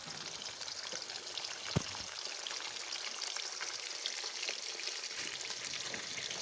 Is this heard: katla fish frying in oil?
yes